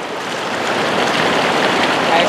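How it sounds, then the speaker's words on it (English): River water rushes steadily past a water-driven mill used to turn a rotisserie chicken roast, a broad, continuous close hiss of flowing current with no clear voices. "The water propelling the mill."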